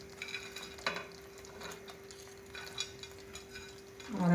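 Chicken for dragon chicken frying in a pan, a soft sizzle with light stirring scrapes and utensil clicks, quiet and intermittent, swelling into a louder hiss at the very end.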